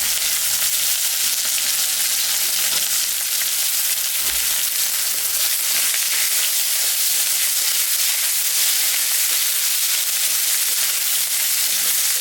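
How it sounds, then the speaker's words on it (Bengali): Cumin, dried chilli, bay leaf and chopped onion fry in hot oil, giving a loud, continuous close sizzle with a few faint stirring knocks. "জিরা শুকনো লঙ্কা আর হচ্ছে তেজপাতা এটা আমি সম্ভব রাখবো কাটা পেঁয়াজ আছে দিয়ে দেবো"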